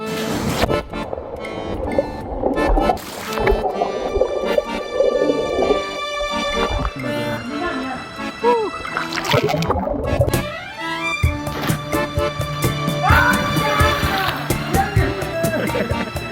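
Splashing and sloshing in a warm-water bathing pool at a hot spring near Tapovan, Joshimath, in Uttarakhand, continuous and close, with voices talking and shouting over the water throughout.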